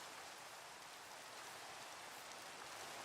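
Steady, close hiss of rain from a Minecraft-style modded game world fills the whole stretch at an even level, with no voices over it.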